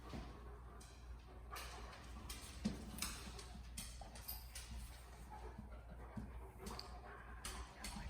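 A dog at a K9 scentwork camp pants hard and fast in quick rhythmic breaths, close by and fairly faint, with light ticking and rustling around it.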